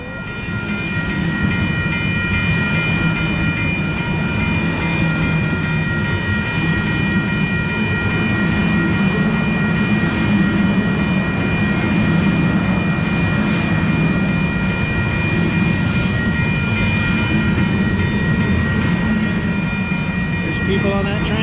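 A train rumbles past near a bridge in Colfax, Iowa Hill, with a continuous loud roar and steady rattling that holds for the whole stretch.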